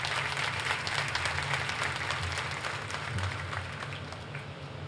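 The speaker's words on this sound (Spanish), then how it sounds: "pido un fuerte aplauso" Steady applause from an outdoor crowd at a park inauguration in El Pedregal, continuous and even for the whole stretch with a low background hum.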